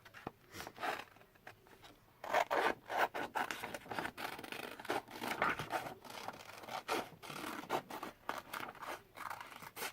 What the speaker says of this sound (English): So now we need to cut this out.